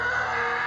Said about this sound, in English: Probably the scream you heard.